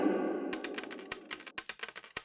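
Gold coins clink and tap against a metal pot in a quick, irregular run of bright, close metallic hits after a short muffled rustle.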